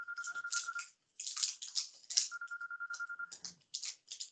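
A mobile phone ringtone plays a repeating electronic melody in bursts with short gaps, close and clear, with no speech over it.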